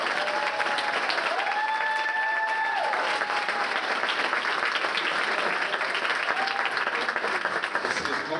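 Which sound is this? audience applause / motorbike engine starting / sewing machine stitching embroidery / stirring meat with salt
audience applause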